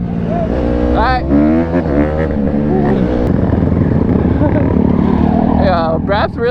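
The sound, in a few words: quad bike engine riding past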